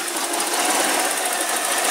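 A boat's factory 350 Mag MPI MerCruiser engine idles after a cold start with a steady, even rumbling drone that holds without change.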